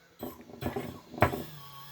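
An Arrma Typhon RC car's motor, run on a Hobbywing Max10 system, gives three short, quiet mechanical whirring bursts in quick succession over about two seconds.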